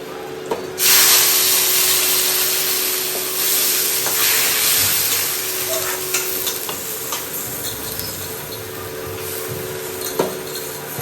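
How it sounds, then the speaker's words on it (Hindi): A loud burst of sizzling as dal hits hot oil for tempering, settling into a steady crackling fry with occasional stirring clinks. "अब चलिए दाल को छौंक देते हैं"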